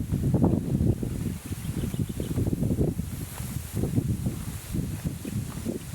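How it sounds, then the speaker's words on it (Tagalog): Strong mountain wind buffets the microphone in heavy, low rumbling gusts that roar continuously with uneven surges. "Lakas ang hangin."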